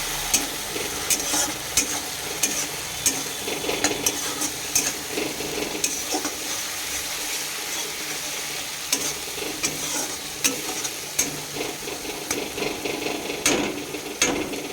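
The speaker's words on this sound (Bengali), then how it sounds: "সর্ষে বাটাটা দিয়ে দিয়েছি, এবার নাড়বো ভালো করে" Mustard paste stirred into fried onions in a pan sizzles steadily while a spatula scrapes and knocks against the metal in a constant, fairly busy rhythm, close and with no talking.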